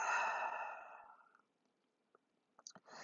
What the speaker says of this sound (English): Big inhale through your nose. Feel your chest fill up, back rise. Open mouth, exhale.